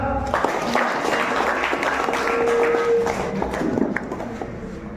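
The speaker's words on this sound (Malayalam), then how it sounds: "എല്ലാവരും ക്ലാപ്പ് കൊടുത്താ" An audience at a YMCA Peravoor first aid and CPR camp applauds steadily for a boy, a dense continuous clatter of many hands filling the room while people talk over it.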